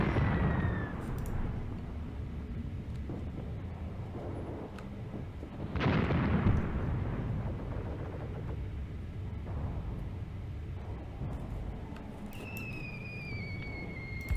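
Continuous rumbling artillery and gunfire from the Mius Front battle game around Hill 190, with a heavy blast near the middle and a steady low roar of distant explosions throughout, plus a faint high whistle later on.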